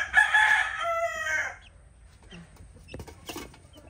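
A rooster crows loudly nearby, one long call, followed by quieter scattered clucking from chickens.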